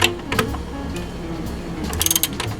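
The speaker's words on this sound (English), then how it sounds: "we're going to start tightening them down, again working from the bottom up" Ratchet wrench tightening bolts on a 2010 Toyota Prius inverter, a close run of rapid clicking ratchet strokes in short bursts, alone without talk.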